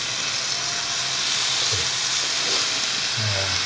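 A fillet laid skin side down in hot oil sizzles with a loud, steady, dense hiss that fills the whole stretch without pause, a couple of faint low knocks underneath and no talking.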